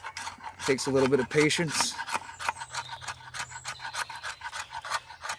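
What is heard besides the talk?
scraping fatwood shavings with a steel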